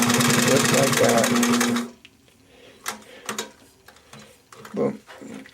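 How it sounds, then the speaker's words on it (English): A Singer 78-1 industrial upholstery sewing machine stitching through heavy material runs loud and steady for about two seconds, then stops abruptly, leaving faint clicks and brief handling noises. "This is a basic upholstery machine."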